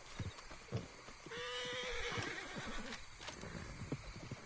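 A horse whinnies in a long, wavering neigh near the middle. Scattered hoof clops and knocks sound before and after it, close and fairly quiet.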